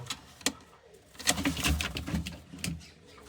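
Large pigeons in a loft give soft, close coos and throaty bursts, several short calls spaced across a few seconds with no one speaking.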